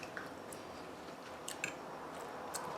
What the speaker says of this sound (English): That crisp on the burritos. That crunch.